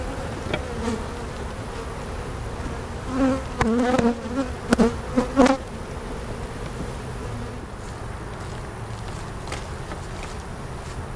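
Honeybees in a nucleus hive, recently shaken up, give off a steady dense buzz throughout, with a few louder, closer buzzing swells in the middle of the stretch.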